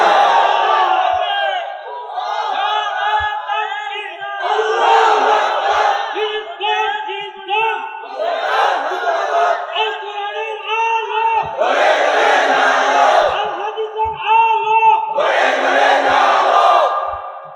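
A large crowd at a religious sermon chants takbir together in loud repeated bursts, each swell of massed voices rising and falling, with short gaps between them.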